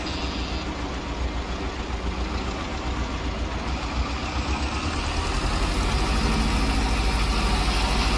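A tractor engine idles and runs steadily in Farming Simulator 22 on the Malinovka map, a continuous low droning rumble that holds evenly and grows slightly louder toward the end, with no talk over it.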